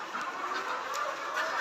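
Laying hens on a poultry farm of about fourteen thousand birds, a dense chorus of overlapping clucks and squawks filling the shed continuously at moderate loudness.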